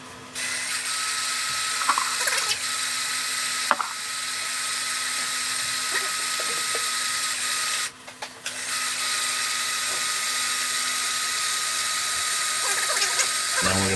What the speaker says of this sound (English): I'll grind for the rest of this away once this is all ground up.